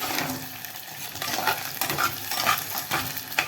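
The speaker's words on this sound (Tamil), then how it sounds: "இது லேசாக பொரியட்டும்" Ingredients for a home-cooked curry, including fibrous stem pieces, fry in a pan with a steady close sizzle, broken by light scraping and stirring clinks.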